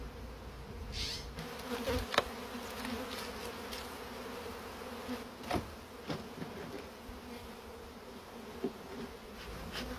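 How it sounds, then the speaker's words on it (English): Honeybees buzz steadily around a hive during a transfer into a new box, a dense continuous hum from many insects with a few closer bees passing near. "I used a little bit of smoke to encourage the bees to move toward the box."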